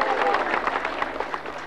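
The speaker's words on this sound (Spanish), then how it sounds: "Es nuestro compañero presidente Evo Morales. Un aplauso." Crowd applause for President Evo Morales at an outdoor public event in Punata, Bolivia, a busy patter of clapping mixed with crowd babble and scattered voices, fairly loud and continuous.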